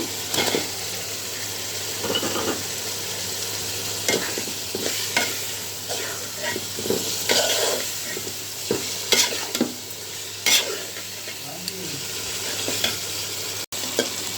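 Meat for biryani stir-fried in a pot, with a continuous close sizzle and repeated scraping and clanking stirs against the metal, fairly loud and uninterrupted by speech.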